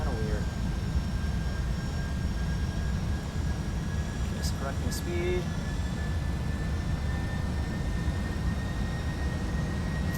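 A Boeing 757 jet on landing approach in a flight simulator gives off a steady, loud engine and airflow drone for the whole stretch, with someone talking over it and a couple of brief electronic tones.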